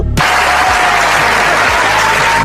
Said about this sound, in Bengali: সবাই একবার বিষাক্তর জন্য জোরে হাততালি দিয়ে দাও